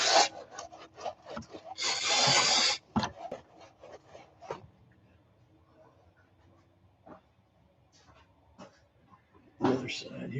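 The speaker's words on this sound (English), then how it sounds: "I like to come behind it with a rag, clean rag, and just, you know, make sure there's not any grit" A clean rag rubs with a raspy scuffing sound over the engine parts of a 2001 Jaguar XK8 during thermostat housing and intake manifold work. It comes in close, uneven strokes with a long loud stretch, then quieter handling, and someone talks in between.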